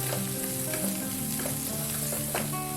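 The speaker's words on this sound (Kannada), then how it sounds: "ಇದನ್ನೆಲ್ಲ ಚೆನ್ನಾಗಿ ಮಸಾಲೆ ಮಿಕ್ಸ್ ಮಾಡ್ಕೋಬೇಕು" Garam masala and coriander powder fry in a pan for aloo gobi curry, a dense crackling sizzle with scraping stirs of a spoon against the pan, steady and close, with no talking.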